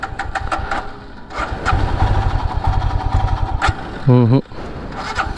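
A Royal Enfield Himalayan BS6 motorcycle's engine is cranked in a starting attempt, giving a loud, close, chugging rumble for a couple of seconds. A person talks before and after it.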